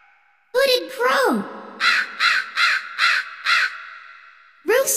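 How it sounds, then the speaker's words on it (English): A brief voice is followed by a hooded crow giving a run of about five loud, harsh caws in quick, even succession. "Hooded crow."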